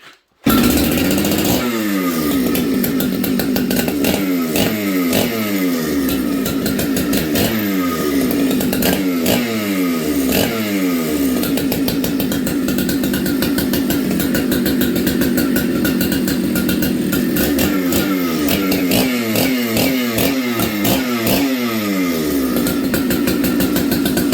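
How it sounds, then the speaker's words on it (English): A Jonsered 2094 chainsaw runs loud and close, its engine revving up and down in repeated bursts while cutting, steady throughout with no talking. "I can't wait to go cutting with this."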